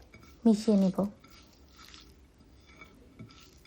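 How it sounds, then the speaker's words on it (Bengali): Boiled taro root is mashed by hand, giving soft, wet squishes and faint squelches that stay quiet and close. A brief burst of voice comes near the start. "খুব সুন্দর করে সিদ্ধ হয়েছে হাত দিয়ে ম্যাশ করতে কোনো প্রকারের কষ্টই হচ্ছে না"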